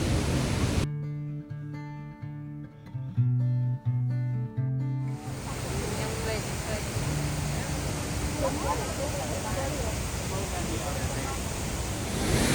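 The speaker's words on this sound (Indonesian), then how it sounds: "Kita mau makan di sampingnya air terjun, jadi agak sedikit berisik ya" A steady, broad rush of a waterfall at The Hermitage, Scotland, in autumn fills the background, loud and continuous, with some music playing over it at the start.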